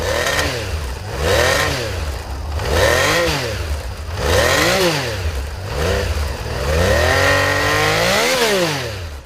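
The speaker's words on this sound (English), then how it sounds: "How do you make a motorcycle engine sound like a Formula One car?" A 1,047 cc Honda CBX inline-six motorcycle engine revs up and down repeatedly, each loud rising and falling wail lasting a second or two, with a smooth high-pitched exhaust note heard close and alone.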